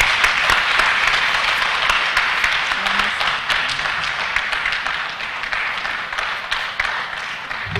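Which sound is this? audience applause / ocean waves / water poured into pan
audience applause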